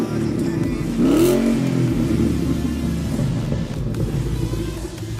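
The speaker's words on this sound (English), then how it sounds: "let me get a revving shot from the outside" Ford Mustang S197 engine revving, recorded from outside the car: one rising rev early on over a loud, steady rumble, with a voice briefly audible.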